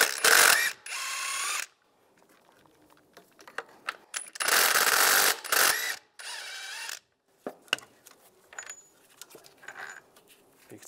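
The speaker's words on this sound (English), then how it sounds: "We'll take these two bolts out using an 18mm socket." A ratchet with an 18mm socket works on the engine mount bolts of a 1999-2005 Volkswagen Jetta. Close, rapid clicking comes in several bursts separated by pauses, followed by a few scattered lighter clicks.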